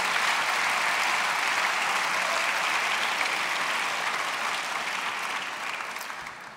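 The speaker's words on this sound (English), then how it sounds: "I want to give her a big round of applause." A large audience at an evening lecture event claps steadily as one dense, even wash of applause that holds for several seconds and then gradually tapers off at the end, with no talking.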